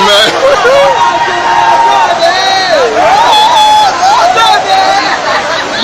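A large crowd at an outdoor rally fills the air with loud, continuous shouting, cheering and chanting voices, close and dense, with some whoops rising above the babble.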